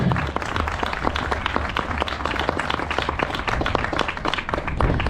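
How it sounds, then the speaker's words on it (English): Audience applause at a small gathering, close and busy with many distinct individual claps forming a steady, lively patter throughout. "I'm going to give another round of applause to my sister."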